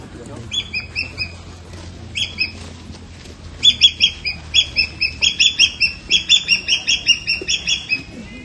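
A Javan hawk-eagle gives a series of shrill, repeated high calls in rhythmic bursts, sparse at first and then a rapid run of loud notes, over low background murmur.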